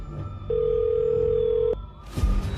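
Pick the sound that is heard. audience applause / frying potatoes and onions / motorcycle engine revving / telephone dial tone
telephone dial tone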